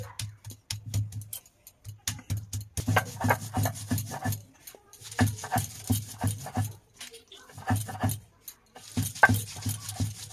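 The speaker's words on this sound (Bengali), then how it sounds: "এখন আমি শিলনোড়ায় দিয়ে বাটবো মশলাটা।" Spices being ground by hand on a shil nora grinding stone in a village kitchen, heard as repeated rough rubbing and rasping strokes in uneven bursts with short pauses, fairly close.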